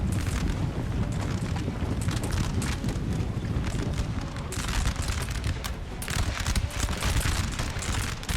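Napoleonic artillery batteries firing in Total War: a continuous, dense rumble of distant cannon and musket fire with rolling booms and crackling volleys, heavy and unbroken throughout.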